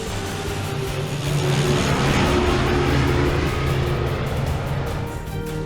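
A Japanese bomber plane in flight gives a loud, steady engine drone that swells slightly in the middle and holds throughout, with no talk.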